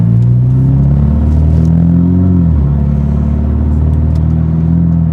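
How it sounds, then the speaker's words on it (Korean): A tuned-exhaust Mercedes-Benz SLK AMG convertible from 2016 accelerates, its engine droning loud and steady with a low rumble and the pitch rising then dipping as it shifts, heard alone without talk. "지금 이 차량 같은 경우는 배기 튜닝까지 되어 있는 거고요. 배기를 껐다 켰다 할 수도 있고"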